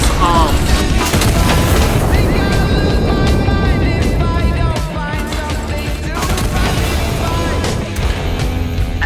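An artillery gun in the Iron Nest game fires a shell, a loud booming blast over dense, continuous battle noise and music, with faint talk in the background.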